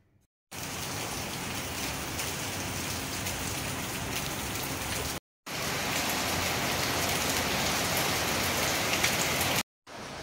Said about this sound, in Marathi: तर फ्रेंड्स परत पाऊस चालू झालेला आहे